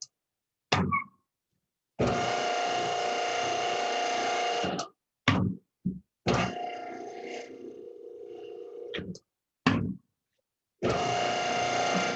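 A clay pug mill runs in long, steady motor drones with a strained, working-harder tone as it mixes a full load of clay, broken up by loud thunks and short pauses between runs.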